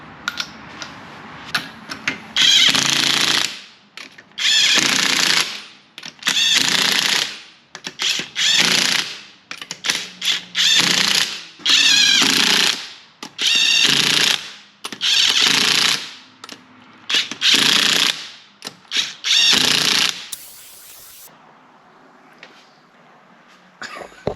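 A Seesii 1/2-inch impact gun running on torque setting 1 fires off a string of loud, rattling hammering bursts, roughly a dozen in a row of two to three seconds each, with short pauses between and no talking.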